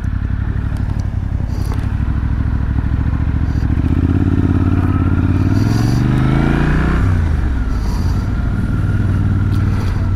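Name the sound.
motorcycle riding in city traffic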